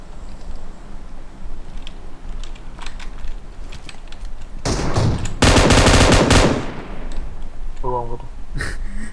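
Gunfire from the PUBG Mobile shooter game: a burst of rapid automatic shots that grows into a loud sustained volley, with lighter clicks and sparse single shots before it.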